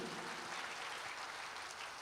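Church congregation clapping at a Sunday Holy Communion service, a steady, even wash of applause filling the room, with no voices standing out.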